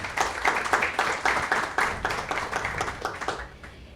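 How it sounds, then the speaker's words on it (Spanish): Scattered hands clap in applause from a modest audience at a panel discussion in Ecuador, a few seconds of uneven, moderately faint clapping that tapers off toward the end. "Un aplauso para Pablo, por favor."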